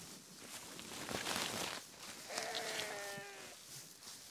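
Goats on a farm in cold weather bleating, with a couple of faint calls close by and a clearer harmonic bleat near the end, amid light rustling and footsteps.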